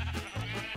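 Sheep in a video game bleat in a quick run of wavering, nasal calls, with a sharper bleat near the end, heard alone without talk.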